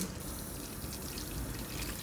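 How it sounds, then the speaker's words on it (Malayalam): Water is poured into a pan of chopped potatoes on the stove, a steady close splashing pour that runs without a break and with no talking. "അല്പം വെള്ളം ചേർത്ത് കൊടുക്കുന്നുണ്ട് വേവിച്ചെടുക്കാൻ വേണ്ടി"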